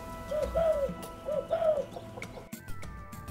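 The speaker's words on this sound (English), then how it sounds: "At his home, Muhammad Shah keeps spotted doves and chickens." Spotted doves kept at a home coo in soft repeated phrases, two close paired calls followed by a brief chirp and faint background clatter.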